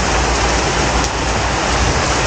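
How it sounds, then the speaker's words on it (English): Heavy rain pours down in a dense, steady roar while camped along a long-distance bike route, loud and unbroken, with no voices. "this rain is supposed to last for a couple of days at least. So, woo, and it's coming down big time."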